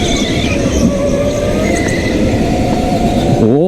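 Go-kart tyres scrubbing and squealing on an indoor track, a steady close hiss and groan with a wavering tonal whine, under the constant drone of the kart, ending in a rising tire squeal.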